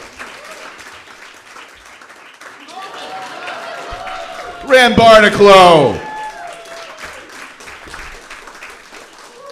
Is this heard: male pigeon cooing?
no